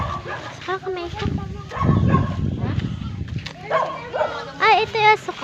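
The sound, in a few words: dog barking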